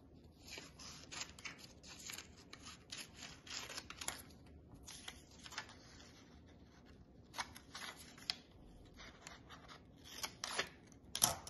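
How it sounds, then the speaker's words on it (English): Scissors snip through paper along drawn pencil lines, a series of close, crisp cutting strokes in irregular bursts with quiet rustling between them. "what you're going to want to do is cut upon each of the lines that you just drew."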